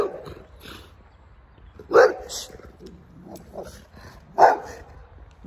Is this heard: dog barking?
yes